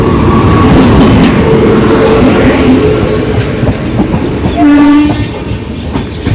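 Netravati Express passenger train pulling into a station, a loud steady rumble of rolling wagons and clacking wheels with brief horn-like tones, close by and filling the whole stretch.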